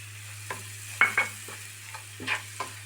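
Spices including turmeric, garam masala, chili powder and salt are stirred in a frying pan, a soft sizzle with several distinct scraping strokes of the spoon, close and fairly quiet, no talk.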